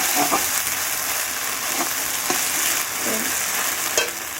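Ginger frying on low heat in a pan, a steady broadband sizzle with a few soft scrapes of a spatula stirring it through, close and continuous with no talking.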